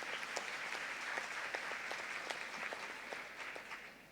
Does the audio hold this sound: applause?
yes